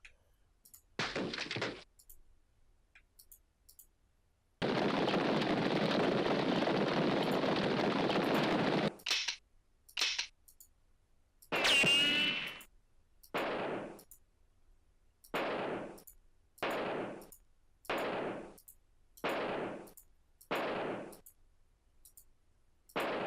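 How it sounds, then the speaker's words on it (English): Gunshots ring out while hunting buffalo in the Oregon Trail video game, with a long sustained burst followed by a rapid series of sharp, evenly spaced shots, loud and close, separated by brief silences. "Shooting the crap out of these buffalo."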